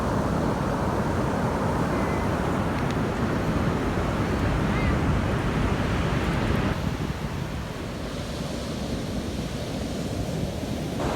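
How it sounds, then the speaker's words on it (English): Large ocean waves breaking on a beach at night, a loud continuous roar of surf mixed with wind buffeting the microphone, steady throughout with a slight drop in intensity near the end. "The waves are huge tonight."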